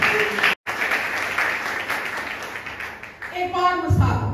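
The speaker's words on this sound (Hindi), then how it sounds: "आई जोरदार तालियां उसके लिए।" A church congregation at a Hindi-language sermon applauds loudly in a dense, continuous burst that briefly drops out. A voice and some tonal sound come in near the end as the clapping fades.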